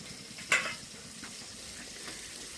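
Sliced teasel gourd fries in a pan of hot oil, giving a steady close sizzle, with a brief sharp clink of a spatula stirring near the start.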